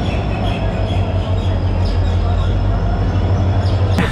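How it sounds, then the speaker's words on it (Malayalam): A passenger train pulls in at a railway platform, a loud, steady, low rumble with humming drone tones, a few faint clacks, and a sharp squeal right at the end. "നമ്മുടെ ട്രെയിൻ ഇവിടെ എത്തിയിട്ടുണ്ട് കേട്ടോ"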